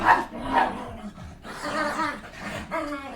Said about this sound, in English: That's them dogs.